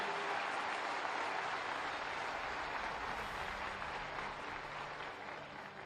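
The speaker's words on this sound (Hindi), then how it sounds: "बहुत जोरों से ताली बजाएंगे." Dense, loud applause from a rally crowd in Maharashtra for Yogi Adityanath, steady clapping that holds strong and then eases slightly toward the end.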